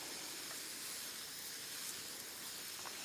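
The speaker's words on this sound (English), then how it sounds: "So I'm just gonna spray right over that row." Water sprays from a hand-pumped pressurized sprayer over freshly planted seed rows, a quiet, steady hiss that runs unbroken for about three seconds.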